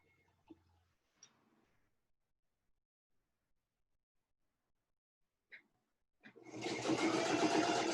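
A sewing machine chain-pieces log cabin quilt blocks, starting after a few faint soft taps and then stitching steadily and close at the end, with no talking.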